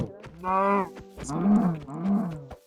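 Minecraft cow mooing, three close, loud moos in a row, each a low drawn-out call, with nothing else beneath.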